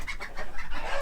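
Hens clucking inside a farm coop of laying chickens, a quick run of close, soft clucks and murmurs with no talking.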